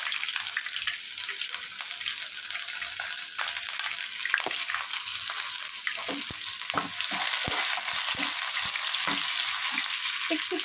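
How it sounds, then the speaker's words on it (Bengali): Chopped onions frying in hot oil in a pan for restaurant-style egg fried rice, a steady close sizzle throughout with occasional crackles and stirring clicks, no talking. "দিয়ে দেবো পেঁয়াজ কোচানো।"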